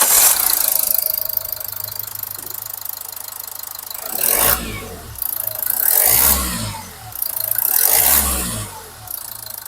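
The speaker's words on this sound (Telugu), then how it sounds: "ఒకసారి వెహికల్ స్టార్ట్ చేసి యాక్సెషన్ ఇచ్చి కూడా మీకు చూపిస్తానండి" A used Toyota Etios Liva GD with 1,18,000 km idles with a steady mid-pitched engine hum, then revs up in three strong surges that rise and fall back to idle, close and loud.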